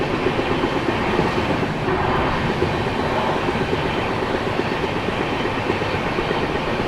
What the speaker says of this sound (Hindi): सामने से आ रही है अपनी हजरत निजामुद्दीन से चलकर वास्को डी गामा की ओर जाने वाली गोवा एक्सप्रेस